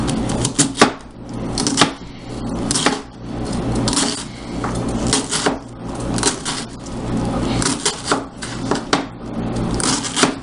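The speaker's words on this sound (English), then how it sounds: "Now we're going to cut this up real fine" A knife slices cabbage thinly on a cutting board for sauerkraut, loud close rhythmic chopping strokes repeating steadily throughout, with no speech.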